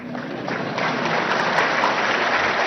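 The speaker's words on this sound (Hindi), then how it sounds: "ये तो आपका विषय है, ताली बजा सकते हैं।" Audience applause at the Supreme Court's diamond jubilee inauguration ceremony: dense, steady clapping from a large crowd that fills the whole stretch without a break.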